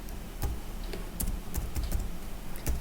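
Keystrokes on a computer keyboard as a gnuplot command is typed: a quick, irregular run of close, crisp clicks over a faint room hum, with no talking.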